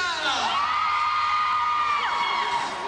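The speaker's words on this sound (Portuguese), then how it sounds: "Cadê a torcida das meninas?" Crowd of children cheering and whooping for the girls' team at a clown's party show, a loud sustained chorus of high shrieks and yells with rising and falling cries.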